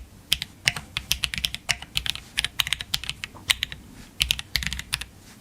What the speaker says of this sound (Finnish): Jos nyt ei keskity tähän kirjoitussuorituskykyyn, niin miltä tää tuntuu tää näppäimistö?